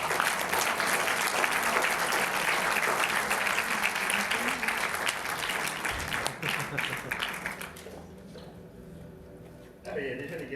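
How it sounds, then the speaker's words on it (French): A studio audience applauds steadily for several seconds, the dense clapping holding at an even level before fading out, with a few quieter sounds at the end. "On vous applaudit donc."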